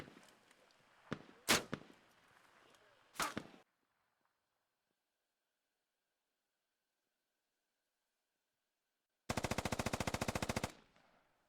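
A SAW machine gun in the game Squad fires a few sharp bursts, followed by silence, then a long, loud, rapid rattle of continuous automatic fire that stops abruptly.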